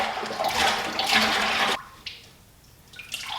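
Antifreeze and distilled water poured together for a Porsche 997 engine's coolant: a loud, close gushing pour for nearly two seconds, then it cuts off and leaves quieter dribbles and splashes.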